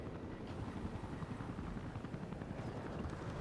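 A helicopter in the video game Battlefield thrums with a rapid rotor chop, loud and continuous throughout.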